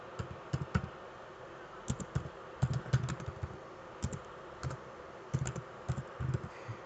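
Computer keyboard keys being typed in irregular bursts of close, crisp clicks with short pauses between words, entering a pip install command for Django in a Python virtual environment.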